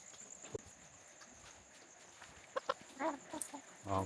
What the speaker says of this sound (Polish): O, kury atakują.